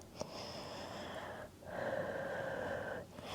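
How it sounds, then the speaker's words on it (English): Slow, deep breaths during a gentle seated yoga session for stress relief, close and steady, with a long breathy pass followed by a second, slightly louder one carrying a faint whistling edge. No talking. "Focus on 3 deep breaths here."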